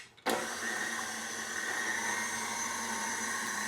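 Electric mixer with a paddle attachment beating butter in a bowl, a steady loud whirring drone that starts abruptly and holds evenly throughout.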